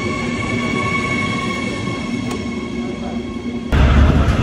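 A train runs steadily with a loud continuous rumble and rail hum, close and even, then grows suddenly louder and rougher near the end.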